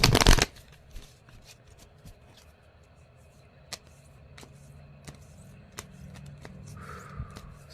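A deck of Angels of Abundance oracle cards is shuffled and fanned, beginning with a quick loud riffle followed by soft, scattered card flicks and taps spread across the quiet stretch that follows.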